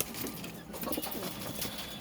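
Pigeons in a netted home loft during the rainy season, with soft, faint cooing over a constant hiss of background noise.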